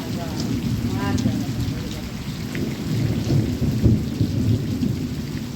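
Heavy monsoon rain lashes down in the Konkan during a thunderstorm, a dense continuous roar with deep rolling thunder beneath it and a brief voice near the start.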